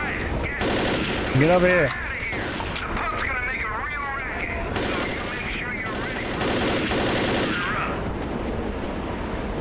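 Bursts of automatic weapon fire from the video game Left 4 Dead crackle in rapid, dense volleys under loud shouted talk from players.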